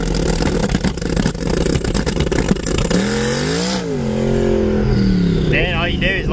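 A turbocharged Mustang built as the MUDstang revs hard on its anti-lag launch setup, a loud, rough engine roar that rises and falls in pitch before surging away in a sweeping climb.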